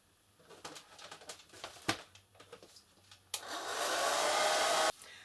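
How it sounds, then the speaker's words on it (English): A hair dryer drying paint switches on with a loud, steady blowing roar that runs for about a second and a half, then cuts off, after some light clattering. "it can now be speed dried with a hairdryer"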